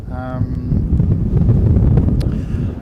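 Strong gusting wind buffets an outdoor microphone at an airport runway, a loud low rumbling roar throughout, with a brief tonal beep early on.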